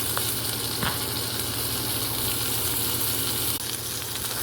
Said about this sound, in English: I let the hamburger cook for a few minutes before I flip it over